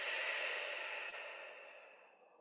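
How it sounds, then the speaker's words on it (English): An open-mouthed exhale during yoga breathing practice, a soft, breathy rush of air that fades steadily over about two seconds, heard close and alone. "when you're ready, open mouth exhale to release"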